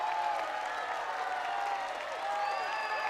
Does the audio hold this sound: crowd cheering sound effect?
yes